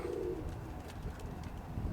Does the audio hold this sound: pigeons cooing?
yes